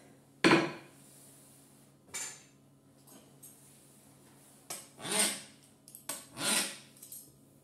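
A dough cutter wheel rolls over chebakia dough in several separate short passes, each a close scraping rasp with a light clatter, with quiet gaps between them.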